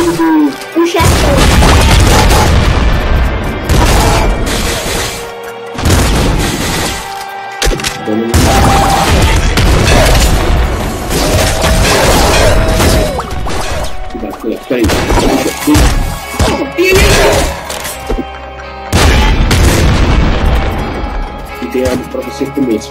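Nonstop gunfire and heavy explosions from the video game Nuclear Throne, dense booms and crashing blasts filling the whole stretch at high volume with only brief gaps, while players talk over the action.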